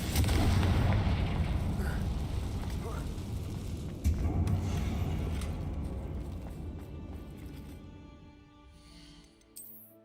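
A Confringo fire spell cast in the game Hogwarts Legacy bursts with a loud, booming explosion that rumbles and slowly fades, followed by a second impact around midway and lingering magical shimmer at the end.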